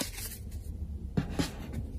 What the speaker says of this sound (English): Let me shuffle my decks here a little bit